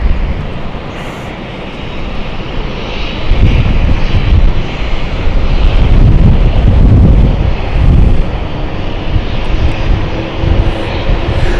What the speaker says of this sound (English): There's the prop planes there.